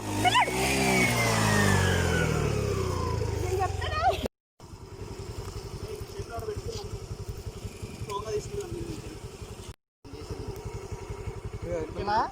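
A motorbike engine revs loudly up close, rising and falling in pitch for about four seconds, then settles into a steady running rumble while people talk over it.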